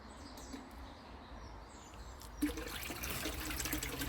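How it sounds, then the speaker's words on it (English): A garden pond pump restarts beside a heated fish pond, a faint low trickle suddenly swelling into a steady rushing flow of water, with a few faint bird chirps in the background. "Get the pump back on quickly"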